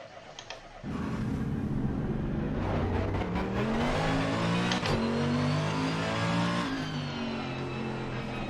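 Mercedes race car engine in the Assetto Corsa Competizione racing game, a loud continuous roar that climbs through the revs with gear shifts, heard alone without any talk.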